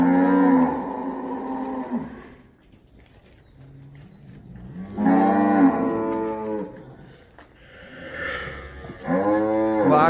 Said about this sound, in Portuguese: Vaca produzindo sem cria